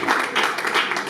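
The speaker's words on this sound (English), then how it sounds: "So once again, I would like you to applaud him" Applause from an audience at an association's annual general meeting, a short burst of fairly loud, steady clapping close by.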